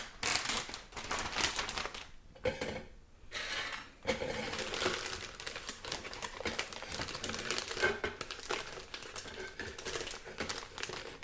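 Plastic wrap handled over a container, a close, continuous crinkling and rustling with dense crackles and brief lulls throughout.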